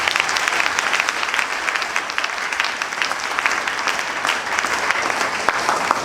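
A church congregation at a night vigil claps steadily and densely to acclaim the Lord, a sustained wash of applause filling the room with no break.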